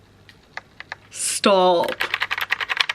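Keys clack on a heavy mechanical keyboard with emoji keys: a few isolated taps, then a quick run of crisp, close strokes after a short spoken word.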